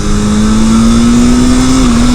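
A turbocharged Yamaha XJ650 Turbo motorcycle on a test ride roars loud and close in one sustained drone, its pitch creeping slowly upward as it comes onto boost.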